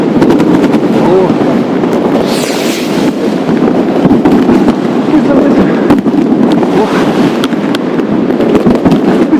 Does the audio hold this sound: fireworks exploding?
yes